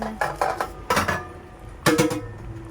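A metal lid clanks onto a cooking pot of sinigang na isda sa bayabas, several close, ringing clinks and rattles in quick succession as it settles into place.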